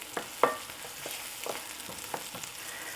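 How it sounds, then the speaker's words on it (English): Gnocchi dropped one by one into a pot of boiling water, giving a string of soft splashes and plops at uneven intervals over a steady bubbling hiss, close by with no talking. "Drop them where the water's boiling and try to drop them in different places."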